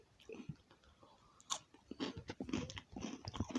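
Tedhe Medhe snack is chewed close to the mic with steady, crunchy bites and soft grinding, a quiet rhythmic mastication that grows busier toward the end with no talking.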